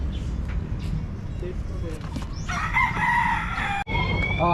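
Chickens cluck and a rooster crows nearby amid talking voices and some background rumble.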